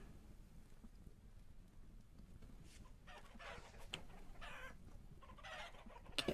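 Rooster clucking in the video game Vintage Story, two roosters nearby, with a few short bird calls over a steady low rumbling game ambience and no talk.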